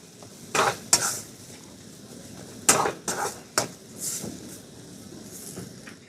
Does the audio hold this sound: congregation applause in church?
no